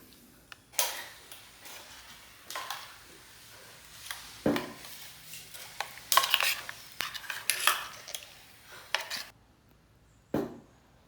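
A spoon scrapes and clinks against a pan while turmeric and chili powder are stirred into a simple home curry, giving intermittent taps and scraping strokes, close but fairly quiet, with pauses between bursts.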